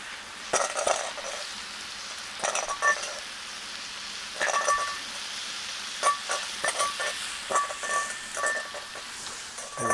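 Prime rib sizzles and fries with vegetables in a pan, a steady crackling hiss broken by bursts of stirring and clinks of a utensil against the pan.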